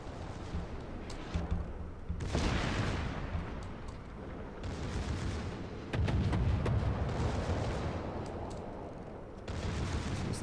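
Secondary guns on the battleship Ohio in the World of Warships video game, firing repeated booming salvos at steady intervals, with several heavier blasts over a constant low rumble.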